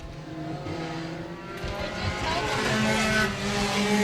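Race cars roar around the track at Laird Raceway, engines building in a continuous rising drone with a commentator talking over them.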